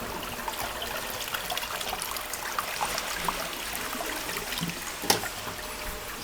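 Water trickles and rushes steadily through the flush valve of an Abacus Easi-Plan shower toilet frame, a continuous moderate wash with a brief sharper splash near the end.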